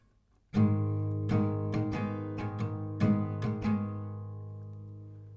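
Acoustic guitar strummed in a steady down-down-down-up pattern, about eight bright strokes ringing out clearly and fading at the end, no voices.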